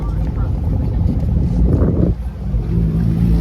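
An Aston Martin Rapide AMR with a naturally aspirated V12 rumbles low and steady nearby at a modded car meet, its engine note swelling briefly while people talk over it.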